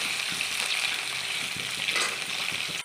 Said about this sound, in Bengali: আলু ফুলকপি সব একসঙ্গে দিয়ে দেবো, একটু ভালো করে ভেজে নেবো